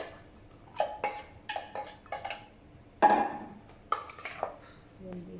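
Metal utensils clink and scrape against a bowl in several short bursts while Thai grilled beef salad (yum nuer) ingredients are tossed together, close and moderately loud.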